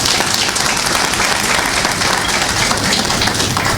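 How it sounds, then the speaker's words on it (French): A ceremony audience in Niger bursts into dense, sustained applause for the head of state. The clapping is loud and continuous, an unbroken wash of many hands throughout. "que je vous demande d'applaudir."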